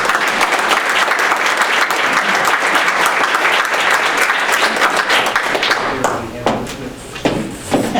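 Audience applause welcoming a moderator to the stage at a chamber debate, sustained clapping from a room of people that thins out and ends after several seconds, with a few thumps near the close.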